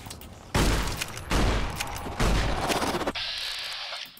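Gunfire in Fallout New Vegas comes as three heavy, booming shots roughly a second apart, each leaving a rumbling tail, followed by a mechanical whir.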